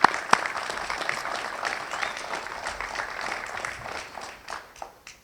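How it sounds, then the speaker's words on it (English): Applause for firefighters at a fire station ribbon cutting ceremony in North Acton, a steady outdoor patter of many hands that holds for several seconds, then thins into scattered claps and fades out. "a huge thank you and a round of applause for our fire guys"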